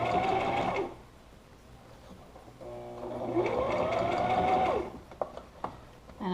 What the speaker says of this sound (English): And I'm just sewing to the right of the seam